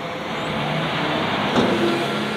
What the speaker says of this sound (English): That's a pretty big dump truck, isn't it?